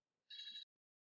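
A phone rings once in a short, bright electronic trill lasting about a third of a second, faint and isolated against silence.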